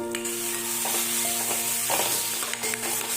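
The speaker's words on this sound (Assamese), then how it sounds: "এতিয়া ধনিয়াখিনি দিও মই ভালদৰে লৰাই দিম।" Coriander is stirred into a sizzling pan while making dal fry. A spoon scrapes through it against a constant, close hiss of frying, with no voices.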